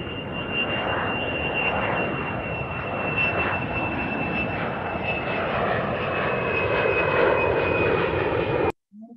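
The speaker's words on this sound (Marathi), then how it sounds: "ती दररोज विमानाच्या घर घर अशा आवाजामुळे उठते." A fixed-wing airplane's engine gives a loud, sustained drone with a steady high whine running through it, close by and unbroken until a sudden cutoff.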